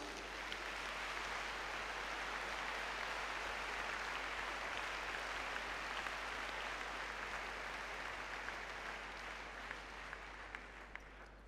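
An audience at a Trakehner stallion presentation applauds the breeder of the champion stallion Kattenau: continuous, even applause with a hissing, rain-like texture, heard faint and distant over a low steady hum.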